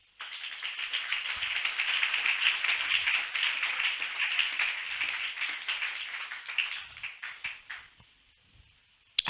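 A church congregation claps and applauds during a worship service, a dense, steady wash of hands lasting several seconds before tapering off abruptly near the end.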